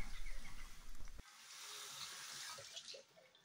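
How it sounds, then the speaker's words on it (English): A sink tap runs water over a 3D printer bed being rinsed, first a splashy clattering stream, then a smoother steady hiss of flowing water, close and moderately quiet with no talk. "just rinse your bed off under the sink"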